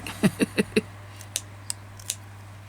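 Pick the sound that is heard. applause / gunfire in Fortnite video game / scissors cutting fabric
scissors cutting fabric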